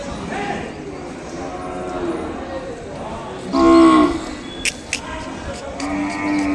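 Ongole bulls moo at a busy cattle market in Kodada, with a loud close bellow in the middle and fainter lowing around it, over crowd murmur and scattered clicks.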